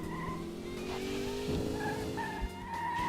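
Cars race in the Dreamcast game Metropolis Street Racer, with engines droning steadily and tires squealing in drawn-out skids through a corner, moderately loud with no talking.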